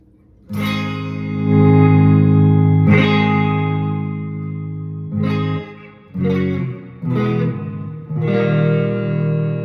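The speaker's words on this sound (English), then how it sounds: "With the 65 reverb unit effect enabled as well. That's why we have that reverb." Electric guitar chords through an amp's 65 Twin Reverb setting with the 65 reverb unit effect ring out with a wide, washy reverb tail, several strummed phrases with short pauses between them, loud and close.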